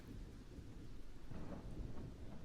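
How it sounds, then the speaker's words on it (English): A low, rolling rumble of thunder swells and churns steadily at a distance, with a faint rain-like hiss on top and no voices. "Is the thunderclap too loud?"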